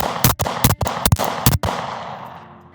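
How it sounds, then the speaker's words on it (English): Five sharp, loud gunshots from a SIG handgun fired outdoors in a quick, fairly even series, each with a short echo, the last followed by a long fading ring. "5 shots, same thing, still applies."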